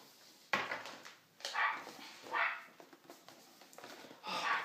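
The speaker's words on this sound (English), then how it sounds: "God, that dog's doing my head in." A dog barks in several loud, separate bursts close by, with short gaps between the barks and nobody speaking over them.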